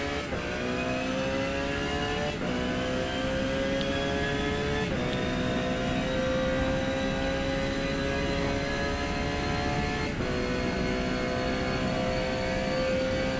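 A Porsche 911 GT3 races around Suzuka Circuit in the Forza Motorsport 8 game, its engine howling steadily and climbing in pitch through repeated gear changes, loud and continuous with no speech over it.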